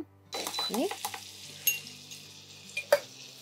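Butter goes into hot mustard oil in a pan, ready for frying hilsa fish: a quiet sizzle under sharp metallic clinks and scraping of utensils against the pan, with two brighter knocks near the end.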